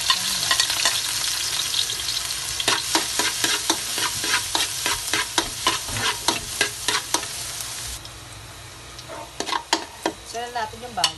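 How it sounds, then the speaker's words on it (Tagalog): Garlic sizzles loudly in hot leftover oil as a spoon stirs and scrapes the pan in repeated strokes. The frying fades partway through while the stirring continues. "Mainit na masyado yung ating panggisa. So, lagyan natin yung bawang."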